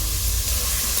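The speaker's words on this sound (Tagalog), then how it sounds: "Let's brown the garlic." Garlic, added after onion, browns in a pan with a dense, steady, close sizzle and hiss that stays constant throughout the short moment.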